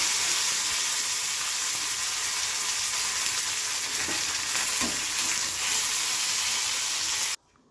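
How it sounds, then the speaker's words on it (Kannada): Cumin, mustard seeds and curry leaves sizzle steadily in hot oil for a dhokla tempering, a bright continuous frying hiss with faint crackles, close and alone, cutting off abruptly at the end. "ಒಗ್ಗರಣೆಗೆ ಜೀರಿಗೆ ಸಾಸಿವೆ ಕರಿಬೇವು ಸ್ವಲ್ಪ ಕೊತ್ತಂಬರಿ ಸೊಪ್ಪು"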